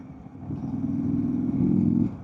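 A 2024 Indian Super Chief Limited cruiser's V-twin engine rumbles low and steady under way in fifth gear, swelling slightly louder near the end before easing off.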